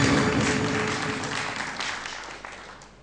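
Studio audience applauds a correct answer on a geography quiz show, a dense burst of clapping that starts loud and gradually fades over about three seconds, with no talking over it.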